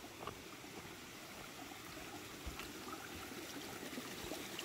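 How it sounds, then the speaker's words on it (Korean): A stream flows through a birch forest, a steady soft rushing and trickling of water, continuous and moderately close with no voices. "물소리."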